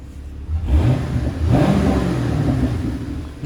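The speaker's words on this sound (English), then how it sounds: "Nice rumble to it, sounds great. It's got the dual mode exhaust too" A 2015 Chevrolet Camaro 2SS V8 with dual mode exhaust starts and revs, a deep throaty rumble swelling in two bursts then holding a loud steady idle-like drone, close and with no talking.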